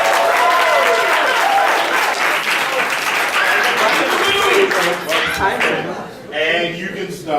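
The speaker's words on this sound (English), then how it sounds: "please welcome Bryn to the stage. Round of applause." A stand-up comedy crowd applauds loudly as a comedian is welcomed to the stage, sustained dense clapping with cheers and whoops, fading near the end as a voice begins to speak.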